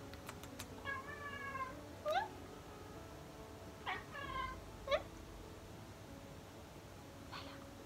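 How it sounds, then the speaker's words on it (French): A cat on a table watching birds gives a series of short, chirping meows, several separate calls spread across a quiet room, fairly close. "Elle est sur la table en train de regarder les oiseaux et de miauler."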